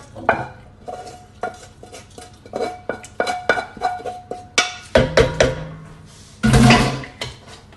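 Minced meat tipped into a pot of pasta for a cheat's pasta al forno, with scraping clinks of a spoon against the pan, soft stirring thuds and a loud rush of tumbling food near the end, close and with no talking.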